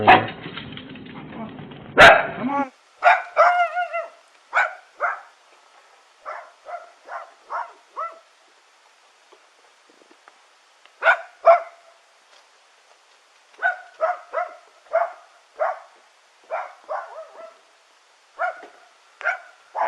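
A small guard dog barks in repeated short bursts near a house during a police welfare check, the yaps coming in clusters over about twenty seconds, with a brief spoken call and a loud rustling handling noise at the start.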